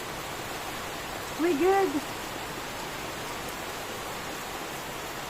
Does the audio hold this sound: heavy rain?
yes